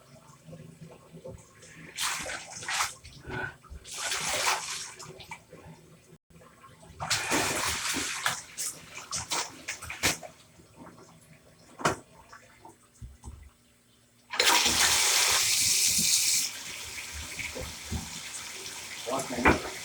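Tap water runs while hands are washed, a steady hiss coming in bursts with gaps, rising to a louder, fuller gush near the end, with faint speech-like sounds at moments.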